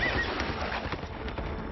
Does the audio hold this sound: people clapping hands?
no